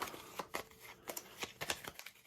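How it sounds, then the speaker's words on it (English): A deck of cards being shuffled by hand makes a quiet series of short papery riffles and taps in an irregular rhythm close by. "Then I will take the middle pack and I will shuffle them up"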